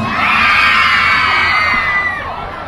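Crowd at a live band performance shouting, whooping and cheering loudly and continuously, with high voices swelling together before trailing off.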